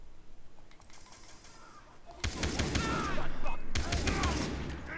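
Gunfire in the Far Cry 3 video game erupts midway as a dense rapid burst of shots, loud and sustained, after a quieter stretch of faint game noise.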